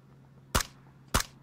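Two sharp gunshots fired in PlayerUnknown's Battlegrounds, about half a second apart, each a loud crisp crack over a low steady hum.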